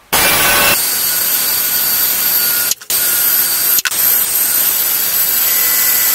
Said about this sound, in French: je vais prendre une pierre comme ça et je vais limer ma frette